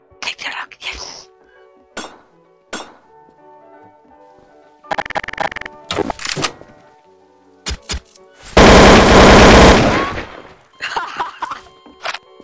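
Gunfire in a multiplayer video game: loud, sharp shots and rapid bursts separated by short pauses, then one long sustained volley, with a voice talking between the shots.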